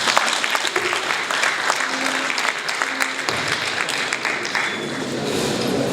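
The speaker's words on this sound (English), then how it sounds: "Ladies and gentlemen, give him another hand clap." An audience at a lecture in Kigali breaks into sustained, dense applause that stays loud and even for several seconds.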